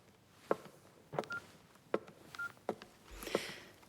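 Mobile phone keypad tones from someone typing a message, a series of short beeps spaced irregularly, about six presses with short pauses between, fairly close and quiet, with no talking.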